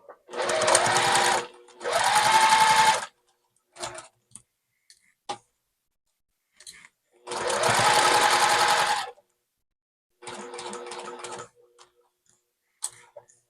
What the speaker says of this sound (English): I'll stitch the bottom of the outer pieces, the one that has the corners, the white corners